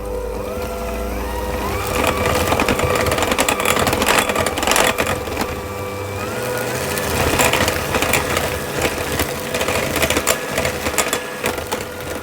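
Electric mixer beating cake batter with added lemon zest and lemon juice for lemon cake squares, a steady close motor whir with shifting pitch running continuously throughout.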